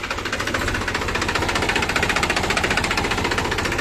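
A Mahindra 265 DI tractor, 2007–2008 model, diesel engine running, with a rapid, even knocking pulse that chugs steadily at close range, loud and alone.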